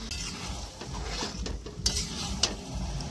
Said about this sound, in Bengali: মশলা কষে এসছে, এবারে মাংস যাচ্ছে